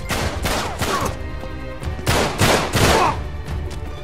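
Gunfire in Uncharted 3, a few loud, close shots in two clusters, roughly three early and three more a second and a half later, with no talk.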